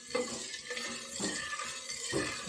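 Food being stirred in a pan while cooking egg curry, with spoon scrapes and knocks against the pan at irregular intervals over a soft sizzle, close and clear.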